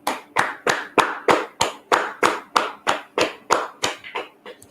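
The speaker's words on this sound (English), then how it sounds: "Clap it up for the class." Applause at a Thursday scripture class comes as about a dozen steady, evenly spaced claps that are fairly close. The beat loosens and fades near the end, with no talking.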